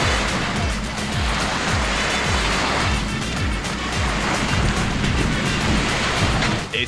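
Sea waves wash onto a beach at Bodrum in a continuous, loud roar of surf, with repeated swells, close by and mixed with wind buffeting the microphone.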